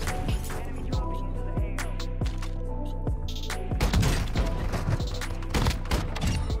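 Shotgun blasts in a Call of Duty match on Ashika Island, a rapid series of sharp booming shots a fraction of a second apart with clinks and game effects between them, loud and close, mostly without talk.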